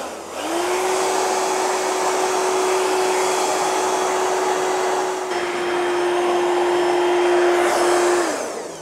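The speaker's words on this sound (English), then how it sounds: "And if you're using the dryer at home, the best thing to do, just at the very, very end, turn on your dryer, turn off the heat." Hair dryer at a barbershop blowing steadily on a client's hair with a strong, continuous whir and hum that starts and stops cleanly, loud and close with no talking.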